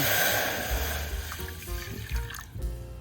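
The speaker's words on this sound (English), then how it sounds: "We're gonna put in a cup and a half of water." Water pours steadily into a pot for pumpkin spice syrup made with light brown sugar, a continuous close splashing fill with no talk.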